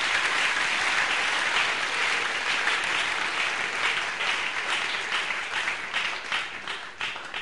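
A church audience claps in sustained, dense applause that stays loud and even for several seconds, easing slightly toward the end.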